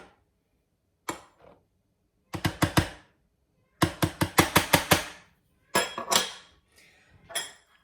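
A utensil scrapes and knocks against a bowl while frikadeller meat mixture is mixed with potato starch. Sharp clinks come in quick clusters of three to six, close and clear, with short silent gaps between the groups.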